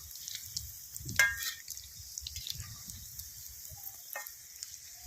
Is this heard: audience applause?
no